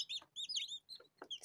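Newly hatched chicks peep in short, high, bright bursts in quick succession, close and clear with no talking.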